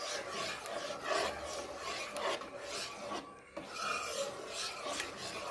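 A utensil stirs a thickening cornflour Karachi halwa mixture in a pan, making close, rhythmic scraping and rasping strokes over and over at a steady pace.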